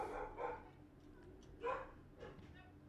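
A reactive dog barks in a few separate bursts, moderately near, with quiet gaps between.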